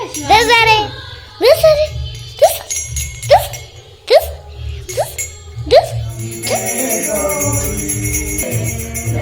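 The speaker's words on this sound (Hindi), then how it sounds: "घंटी बजाओ।" A small hand bell rings repeatedly in a steady rhythm during a Navratri puja, then jingles continuously, with a voice heard alongside.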